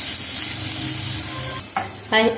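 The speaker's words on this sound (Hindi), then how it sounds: "बस कुछ सेकंड के लिए हम इसे प्याज को चला लेते हैं" Chopped onions stir-fried over a medium-high flame in a pan, a brief bright sizzle with spoon scraping and a couple of tonal clinks toward the end.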